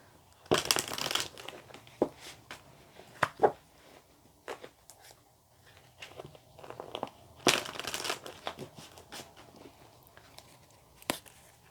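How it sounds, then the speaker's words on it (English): Tarot cards are shuffled and riffled with soft papery crackles and scraping bursts at irregular intervals, close and fairly quiet. "I'm just going to give the cards one more shuffle."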